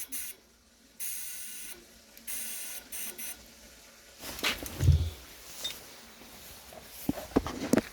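Compressed air pushes flushing water through underfloor heating pipes during a desludging clean, giving bursts of hissing, gurgling spray and clattering surges that build after a quieter stretch, close and fairly loud.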